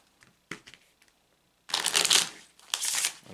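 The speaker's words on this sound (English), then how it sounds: "So I'm going to shuffle one more time." Tarot cards are shuffled up close: a few light taps and flicks, then two loud, crisp riffling bursts of the deck, each lasting around half a second to a second.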